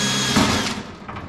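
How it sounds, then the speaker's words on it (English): A power drill bores holes through the floor of a beach cart, a steady whirring grind that swells briefly partway through and continues alone without talk. "we're going to go ahead and start drilling"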